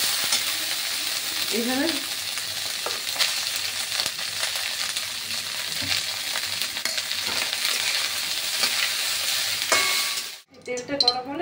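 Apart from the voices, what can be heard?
frying cardamom and cloves in hot oil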